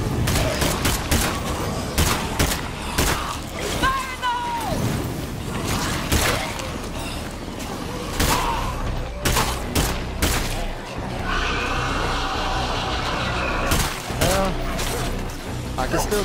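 Bursts of gunfire ring out in the zombie survival video game State of Decay, repeated rapid volleys and single shots scattered through the clip under frequent talking from a player.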